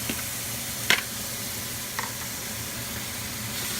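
Ham dropped into a hot pan for fried rice sizzles loudly and continuously, a dense even hiss with a few brief clicks and scrapes over it, close and with no voices.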